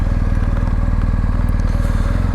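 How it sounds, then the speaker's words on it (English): A 2022 BMW R1250GS Adventure boxer engine runs close by with a loud, steady, throbbing idle and a low pulsing rumble throughout. "Beautiful boxer engine, purrs, revs freely"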